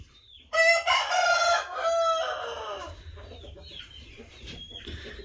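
A white Korean-breed rooster crows once, loud and close, with a long harmonic call that trails off, followed by softer clucking and faint farmyard sounds.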